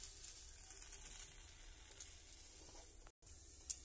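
Bay leaves and five-spice seeds sizzle in hot oil in a kadai as a Bengali tempering, a soft, steady crackle heard from a distance, briefly cut off near the end.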